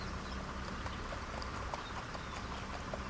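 A 2.5-year-old filly's hooves clip-clop in a steady, even rhythm, faint and slightly distant, over a background hiss.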